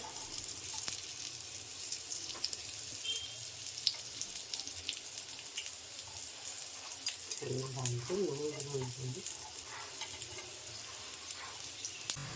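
A wheat flour breakfast fries in a pan until crisp, with a steady, close sizzle and crackle that runs the whole time, plus a brief low hum partway through.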